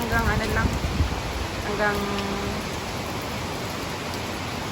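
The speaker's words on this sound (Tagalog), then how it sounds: "Itong lakas ng ulan na to at dilim na to" Heavy rain pours down in Bangkok as a steady, dense hiss, with a voice briefly audible near the start before the downpour carries on alone.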